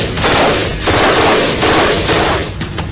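Modern assault rifles fire in loud, dense bursts of rapid automatic shots that run together into a near-continuous roar, with brief gaps between volleys.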